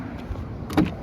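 A rear electric window on a 2014 Vauxhall Astra 2.0 CDti Elite whirs briefly with a short motor hum, close and moderately loud inside the car, ending in a small bump.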